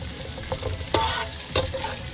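Dry sausage and black olives fry in a pan over medium heat, a steady sizzle broken by a few sharp scraping stirs, close and alone with no voices.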